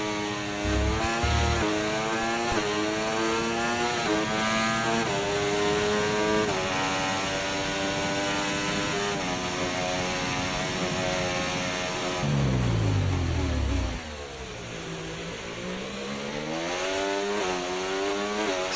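Formula 1 race car engines in the F1 24 game at the Austrian Grand Prix, a loud continuous high-pitched whine with rising and falling gear pitch, a deep downshift drop partway through, then the scream climbing again, no talking.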